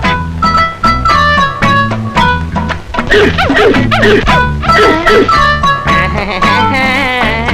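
A dog barks and yips in a comedy film scene, with loud busy music and sound running throughout.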